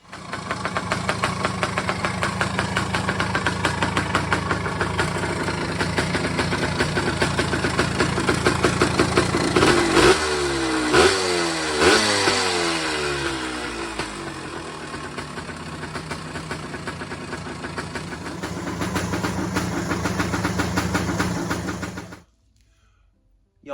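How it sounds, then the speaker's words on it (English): A Yamaha motorcycle engine runs close by in a steady, loud, lumpy idle with a knocking pulse, briefly shifting pitch midway, then cuts off abruptly near the end. "Yamaha seems to be running great"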